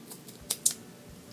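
Scissors snip through tape during a washer repair, two short crisp cuts close together near the mic, fairly quiet with faint background hiss.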